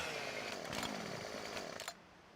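A chainsaw cuts a tree in the Farming Simulator 17 video game, a loud, steady, buzzing engine whine with a few revving surges that cuts off abruptly near the end.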